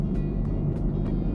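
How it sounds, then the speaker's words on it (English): A 2024 Land Rover Defender 110 HSE cruising at highway speed: a steady, dense low engine drone and road rumble heard from inside the cabin, with faint wind and tire noise layered on top. "This car feels so comfortable at home doing triple-digit speeds"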